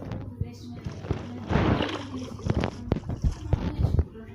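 Boat moving across water in the Minecraft video game, with rhythmic paddle splashes and a rushing wash close up; a person talks over it at times.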